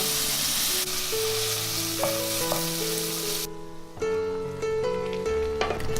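Minced meat and shiitake mushrooms stir-fried in a pan, a loud continuous close sizzle with occasional scraping of the spatula, easing off briefly partway through before resuming.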